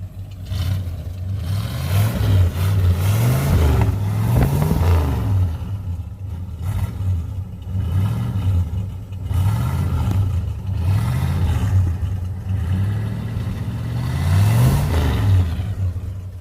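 A pickup truck engine revved hard toward the red line in a truck sound battle, loud and close, rising and falling in repeated surges with mechanical clatter and a droning idle between pulls.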